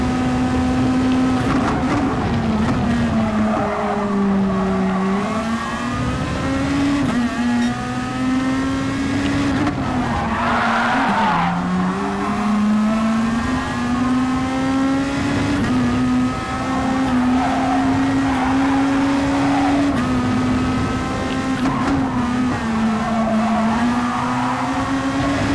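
A racing car in a racing video game power slides around a circuit, its engine droning loudly and continuously with rising and falling pitch while tyres squeal through the slides, with no talk over it.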